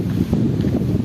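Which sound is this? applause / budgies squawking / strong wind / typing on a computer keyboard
strong wind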